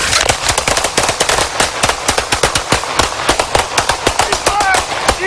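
Rapid exchange of gunshots during a police shootout, a loud, dense string of sharp cracks fired in quick succession for several seconds without a break.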